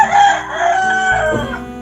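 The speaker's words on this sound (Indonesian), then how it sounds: "Ya ini sudah ayamnya sudah berkokok ya" A rooster crows in a long drawn-out call lasting nearly two seconds, loud and close, with its tone rising and then trailing off, heard on its own with no talking.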